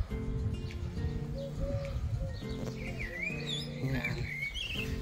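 Bird calls at Port Jack Glen on the Isle of Man, with scattered chirps and coos ringing out over a steady rushing background, while voices talk nearby.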